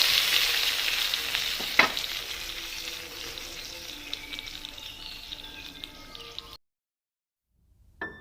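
Tempering poured into Kerala-style chicken korma sizzles loudly and hisses, easing off gradually with a sharp crackle early on, then cutting to silence before a short stir of noise returns.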